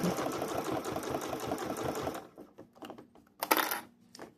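A sewing machine stitches quilt binding with a steady, rapid mechanical patter for about two seconds, then stops, leaving faint clicks and a brief rustle of handling close by.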